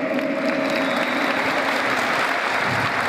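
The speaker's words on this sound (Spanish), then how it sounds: "Aplausos para el profe Jorge." Sustained applause from an audience welcoming a physical education teacher at the opening ceremony of school games, dense steady clapping that fills the whole stretch without a break.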